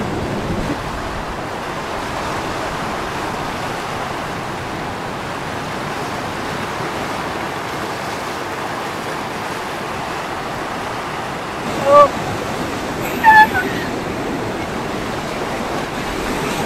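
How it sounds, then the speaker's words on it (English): Ocean waves roll onto a beach in Goa as a constant, soft broadband wash, with two brief chirps near the end and no talking. "किती दिवसांनी मी समुद्रात येते असं वाटत आहे."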